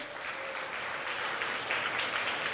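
A church congregation claps in welcome during an Easter worship and sacraments service, a steady, dense crowd applause that holds at even loudness for a couple of seconds with no voices over it.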